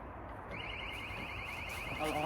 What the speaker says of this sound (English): just set the alarm off, so that's basically us